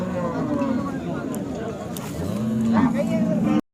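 At a busy Khillar cattle market in Sangola, cattle low and bellow amid a dense crowd of talking traders, the animal calls layered under continuous nearby voices.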